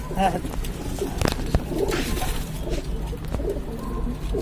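Pigeons kept at a home in Lucknow coo in low murmurs under people talking, alongside scattered knocks and rustling.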